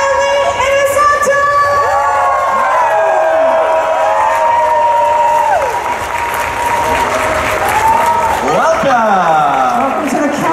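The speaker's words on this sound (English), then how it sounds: "You guys are gonna go crazy, you're gonna keep clapping till we're out." A Comic Con convention crowd claps and cheers loudly and continuously for Star Wars guests, with whoops and yells rising over a steady wall of applause while a voice talks over the noise.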